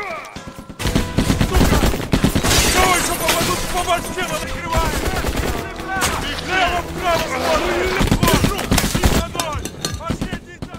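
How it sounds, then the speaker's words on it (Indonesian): Dense gunfire from a war film, with rapid bursts and single sniper shots cracking over a layered soundtrack, loud and continuous from start to finish. "Namun penembak jitu terus melepaskan tembakan."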